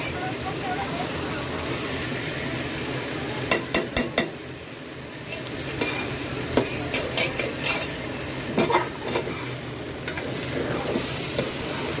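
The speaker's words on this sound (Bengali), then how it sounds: "এইটাকে আমি ভাজা ভাজা করবো, কারণ ভাজা ভাজা করলে এতে মজাও লাগে দ্বিগুণ" Pulao rice frying in a pan sizzles steadily while a spoon scrapes and clacks against the metal in bursts of stirring, loud and close, with occasional talk over it.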